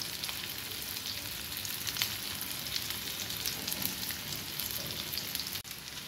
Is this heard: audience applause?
no